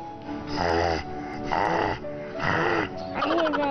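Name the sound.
person imitating a father's snoring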